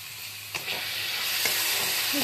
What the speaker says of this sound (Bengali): দেখো বিট ক্যাপসিকাম সব খুব ভালো করে ফ্রাই হয়ে গেছে